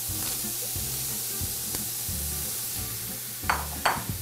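Vegetables and onions fry in a pan with a steady close sizzle and a few brief stirring or scraping sounds near the end.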